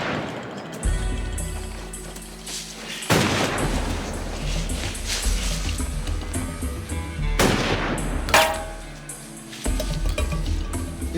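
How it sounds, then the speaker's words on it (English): Gunfire in a TV drama scene: several loud, booming shots sound out at intervals over a rumbling background. "He wasn't shooting at us."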